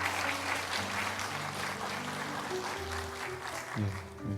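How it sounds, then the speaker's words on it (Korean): A church congregation applauds for a young scholarship recipient during a Sunday service: dense, steady group clapping fills the clip at moderate volume, with a low musical or voice drone beneath. "다 같이 박수로 축하해 주겠습니다."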